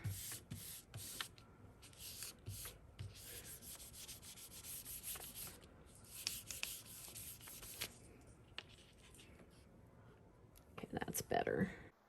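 Paper being rubbed by hand against a Gelli printing plate, a soft continuous scuffing and brushing that runs steadily with brief pauses, fairly faint, ending in a few louder handling noises.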